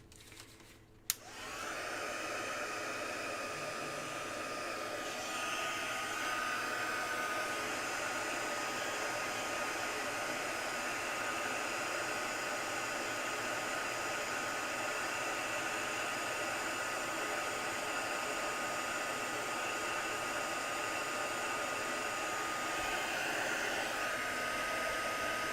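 Hair dryer blowing on wet watercolor paint, switched on with a click and then running as a steady, continuous whooshing drone close by for over twenty seconds, with no talking.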